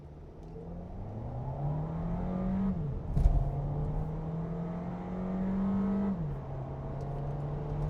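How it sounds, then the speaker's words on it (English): 2024 Audi Q3 35 TFSI Black Edition accelerating hard, engine note climbing steadily with two gear shifts marked by brief dips, whiny drone heard from inside the cabin. "an acceleration pull to see how quick it will get to 60 here"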